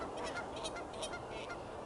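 Several geese honk in quick, overlapping calls, fairly close, over a soft background hiss.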